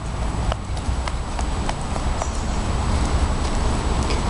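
Rhythmic clip-clop of horse hooves, imitated by a voice, a steady string of light knocks at an even trotting pace, fairly close and clear over background hum.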